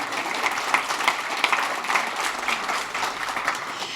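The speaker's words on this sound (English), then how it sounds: "Yes, we can applaud for all of you." An audience at a breakfast event applauds its sponsors in a steady, moderately loud wash of clapping that runs unbroken for the full few seconds.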